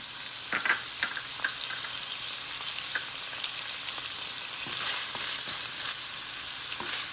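White onions and shiitake mushrooms fry on high heat in a pan with a steady, fairly quiet sizzle, and faint clicks of stirring are heard now and then.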